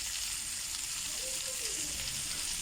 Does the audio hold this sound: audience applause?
no